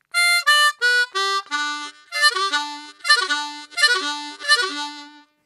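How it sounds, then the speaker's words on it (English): Harmonica sliding down from the five draw to the one draw, a string of clear reedy notes stepping lower through the middle holes, played several times in a row, close and solo with no talk. "You're going to hear all of those holes in the middle as you slide down."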